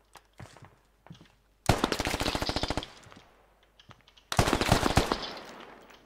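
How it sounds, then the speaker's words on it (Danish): Machine gun fire in a shooter video game on the Old Barracks map: two long, loud bursts of rapid shots, with quieter scattered gunfire between and before them. "Han blev ved med at skyde efter mig"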